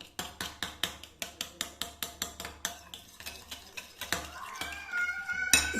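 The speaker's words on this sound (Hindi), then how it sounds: "इसको अच्छा सा करना है हमने मिक्स, इसमें फेंट लेना है इसको" Yogurt whisked in a bowl, a steady rhythmic series of sharp utensil clinks against the bowl, roughly three strokes per second, close and clear, turning into looser clatter near the end.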